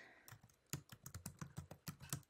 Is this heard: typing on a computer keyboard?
yes